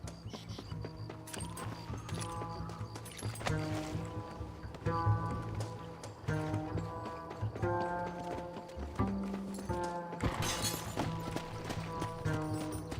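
Horse hooves clip-clop in a steady rhythm in the Red Dead Redemption video game, set against layered game music and ambience, moderately loud throughout.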